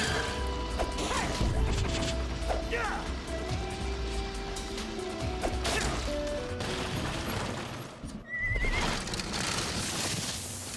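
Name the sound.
horse neighing in Sonic and the Black Knight video game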